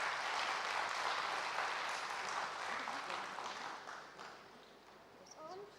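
An audience claps in welcome for a speaker at a spiritual talk on education, a broad steady wash of applause that fades gradually toward the end.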